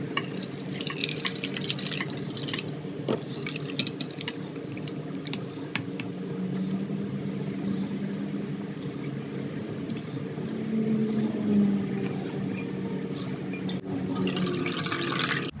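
Minced meat (keema) being rinsed in a strainer under a running tap, with a steady stream of water splashing and dripping continuously and close by, with no talk.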